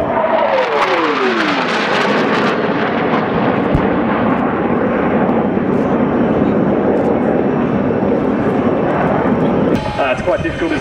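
A military jet flying an attack departure at the Avalon Airshow 2019, a loud and steady roar of engine thrust that sweeps past and holds for about ten seconds, with a commentator talking over it.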